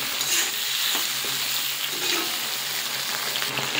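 Chili chicken sauce of soy sauce, chili sauce and tomato ketchup stirred together in a hot pan, a steady close sizzle with soft scraping strokes of the spoon throughout, no voices.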